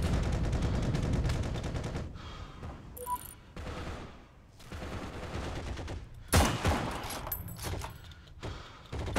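Gunfire from the online war game Heroes & Generals, with bursts and single shots of varying loudness, some close and some distant, spread across a busy in-game soundscape with no talking.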